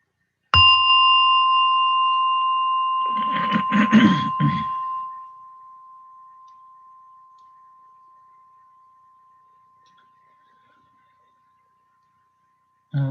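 A meditation gong is struck once to end a session. It rings out clearly, then a sustained tone decays slowly over about ten seconds while a voice speaks briefly over the early ring.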